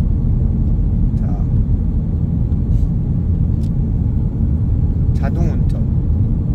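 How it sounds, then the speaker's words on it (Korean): Steady low road rumble of a car cruising on a highway with cruise control engaged, continuous and close throughout, with a few faint bursts of speech in the cabin. "자동 운전. 크루즈 기능으로 가고 있습니다."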